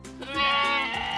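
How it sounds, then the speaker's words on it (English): Sheep give a single close, clear bleat, a wavering, nasal call lasting about a second and heard alone. "These are sheep."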